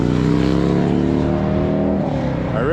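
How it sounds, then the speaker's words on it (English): A motorcycle roars past on a road in Maine, loud and close, its engine note rising and then dropping in pitch as it goes by. "We got another motorcycle."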